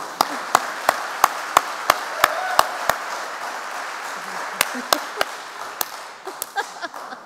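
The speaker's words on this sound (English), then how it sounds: "We'll give her another round of applause." Audience applause at a school speech event for a language-learning competition, heard as a steady crowd wash punctuated by sharp, evenly spaced claps close by, thinning out toward the end.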